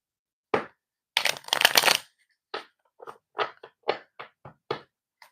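A deck of tarot-style cards is shuffled up close, with a burst of riffling flutter followed by a series of short separate slaps and snaps as cards are cut and tapped, in a quiet room.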